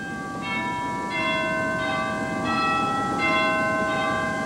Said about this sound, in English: we saw, first of all, the cathedral chimes. Okay. Those are played from the keyboard.